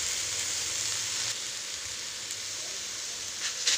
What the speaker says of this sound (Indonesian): Kita tumis sampai layu